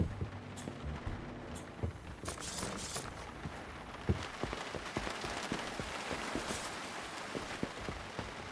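Steady rain falls on a surface, with scattered drops and taps over a constant hiss, fairly close and moderately quiet.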